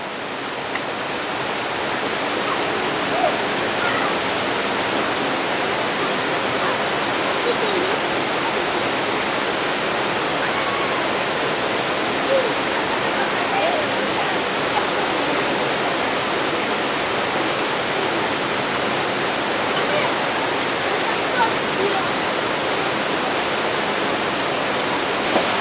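Victoria Falls in Dominica pours down in a loud, steady roar of rushing water, heard close and unbroken for the whole stretch with no voices over it.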